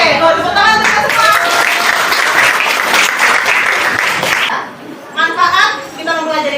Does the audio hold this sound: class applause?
yes